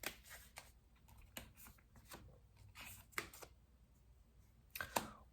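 Tarot cards shuffled and laid out in a quiet room, a few soft brushing flicks and snaps of card stock coming in scattered bursts, faint and close.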